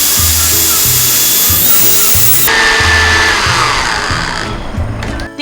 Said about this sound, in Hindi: टिक्का बोटी मसाले के तमाम इंग्रेडिएंट्स को मैं ग्राइंडर में डाल के अच्छे से बारीक पीस लूंगी।